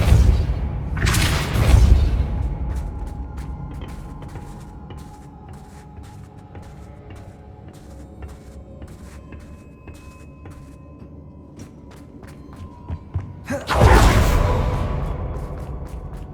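Depulso spell cast in the Hogwarts Legacy video game: a loud whooshing blast opens the clip, game ambience follows, and a second forceful burst lands near the end.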